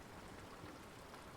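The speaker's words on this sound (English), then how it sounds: "It's raining." Steady rain falls through the night outside an idling car parked in a dark alley, a soft, continuous hiss of drops with no voices.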